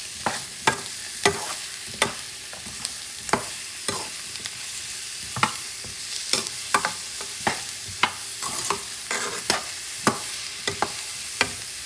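Potatoes, corn and carrots stirred in a frying pan: a steady sizzle underneath with repeated sharp scraping strokes of the utensil roughly every half second, close by.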